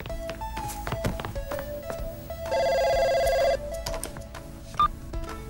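An indoor telephone rings in one steady burst of about a second in a quiet home, with light footsteps and taps before and after.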